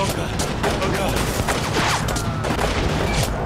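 Dense gunfire from the video game 1979 Revolution: Black Friday, with rapid overlapping shots and booms forming a continuous loud barrage, voices faintly mixed in.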